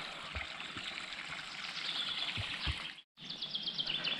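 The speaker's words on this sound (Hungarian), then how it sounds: "Most keresztezzük a patakot." Shallow stream in the Mecsek hills trickling and babbling steadily as hikers cross it, with birds chirping nearby and a brief drop-out near the end.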